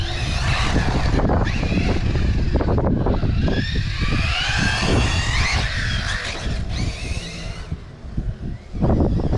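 A light aircraft engine in flight drones loudly and steadily throughout, its tone shifting as power changes, with a brief dip near the end before the roar returns.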